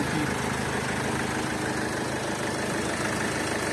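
A diesel car engine with a 1.6-litre powerplant idles steadily and close by, a constant low rumble with a faint mechanical knock running unbroken throughout.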